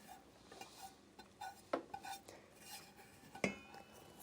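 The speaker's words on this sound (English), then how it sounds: "Scrape all the bits out." A spoon or spatula scrapes browned butter bits from the bottom of a pan while making brown butter sugar cookies, giving quiet irregular scrapes and clinks with a couple of sharper knocks, close and faint.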